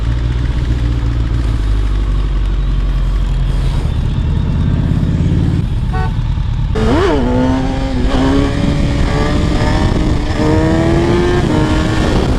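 A Kawasaki ZX-10 sportbike riding on a road, its engine droning loud and steady under heavy wind rush, then rising and falling in pitch as the rider works through the revs.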